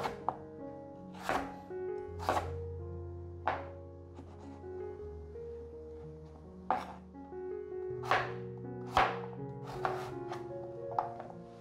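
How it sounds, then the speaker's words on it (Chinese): A knife chops a peeled potato into small dice on a cutting board, about a dozen crisp, close thunks at an uneven, unhurried pace over soft background music. "把马铃薯切成小丁状"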